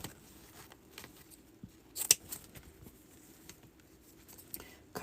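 Scissors snipping through Christmas ribbon at the fold, a few light crisp cuts close by with one sharper snip partway through and another near the end, over quiet room tone.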